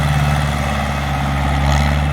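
A Ford New Holland 6610 tractor engine runs steadily close by, a loud, continuous low rumble with a strong even hum and no breaks, sounding alone without any voices.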